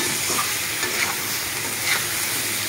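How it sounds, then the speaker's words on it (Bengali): Raw banana and chana dal sizzle steadily in hot oil with spices, including Kashmiri chilli powder, while being stirred now and then, a close, dense frying hiss with faint scraping. "একটু ভাজা ভাজা করে নেব।"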